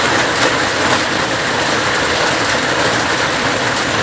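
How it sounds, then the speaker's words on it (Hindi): A dense downpour of hail and rain makes a constant loud, close wash of noise with faint scattered ticks, steady throughout with no voices. "ओले गिर रहे हैं"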